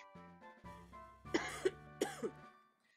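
A man coughs in a short burst of about four harsh coughs near the microphone, rising over a quiet background of soft video-game music.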